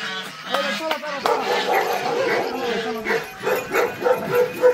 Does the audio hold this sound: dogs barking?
yes